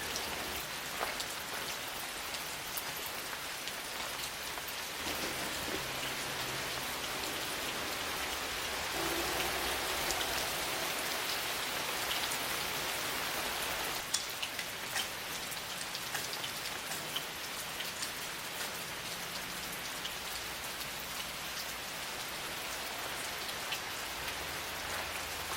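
Soft rain patters steadily on a lake by a campsite, a continuous gentle hiss of drops with no talking.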